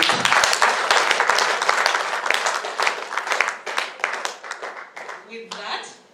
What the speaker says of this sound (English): So let's give them a loud round of applause, please.